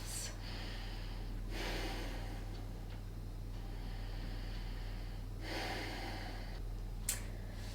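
Slow, deep breaths during a Pilates stretch come as two long, soft inhale-exhale swells, close and quiet over a constant low hum, followed by a brief tick.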